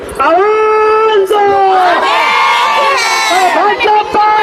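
A large protest crowd in Uttarakhand shouts slogans together, loud and sustained with many voices in unison, rising and falling in chanted bursts.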